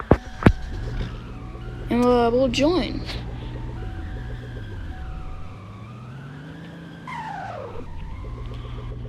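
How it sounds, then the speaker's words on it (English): Tire squeal from cars doing burnouts at a video game car meet, a couple of sharp rising screeches over a steady engine drone, with a player talking over the game audio. "there are people doing burnouts"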